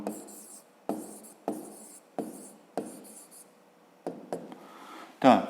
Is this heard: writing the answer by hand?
yes